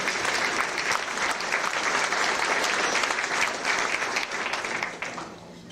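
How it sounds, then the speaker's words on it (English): Sustained applause fills a large room as the audience at a space society's 25th anniversary awards banquet claps steadily, holding loud for several seconds before tapering off toward the end. "You can give yourselves a round of applause."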